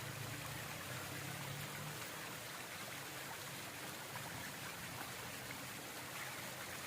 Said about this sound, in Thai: นี่คือน้ำตก